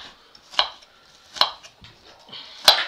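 Three sharp knife chops at a steady spacing as small onions are cut into little pieces on a board, close and fairly loud with quiet gaps between strokes.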